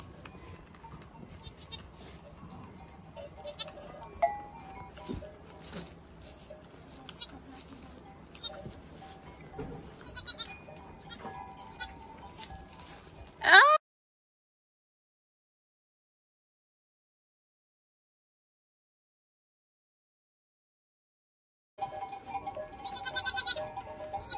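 A goat bleats repeatedly while giving birth, with nearby people talking over the farm sounds. The noise cuts to a long silence partway through, then resumes with more bleating.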